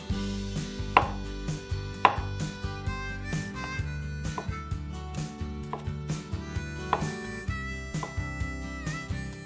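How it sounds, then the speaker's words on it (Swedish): A knife chops potatoes into small pieces on a cutting board in quick, regular strokes, clear and close, while music plays in the background. "Jag skär potatisen i ganska små bitar också."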